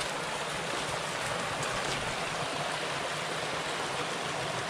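Springtime creek water rushes steadily out of twin culverts, a dense, even roar close by that holds unbroken throughout with no voices.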